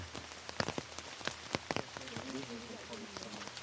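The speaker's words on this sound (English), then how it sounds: "Or maybe it's just the rain." Rain patters onto a surface in irregular close drops and taps, with a voice murmuring faintly beneath.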